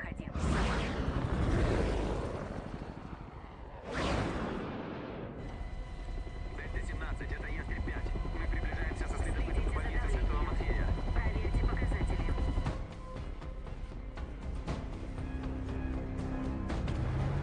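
A special helicopter, the Morpekh-1, flies in a sci-fi action film, a steady rotor roar that stays loud and close throughout, with sharp bursts near the start and voices talking over it.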